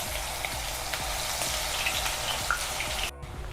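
Ginger paste sizzles in hot oil for a chicken pickle, a steady close crackling hiss that runs on without pause and cuts off sharply near the end.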